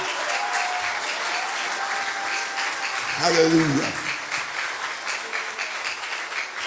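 A church congregation claps during a revival service, a steady crowd of hands clapping throughout while a voice calls out briefly near the middle and someone sings or shouts over the clapping.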